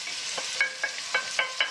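Ingredients fry in olive oil in a saucepan with a steady sizzle, and a utensil stirring or scraping makes regular short taps every few tenths of a second.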